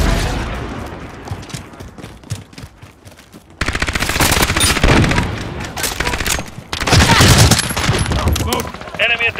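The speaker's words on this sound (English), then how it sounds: "Allied cruise missile launched." Call of Duty Modern Warfare match with a cruise missile strike, rapid bursts of machine-gun fire and loud booming explosions, with short pauses between bursts and game voice announcements over the top.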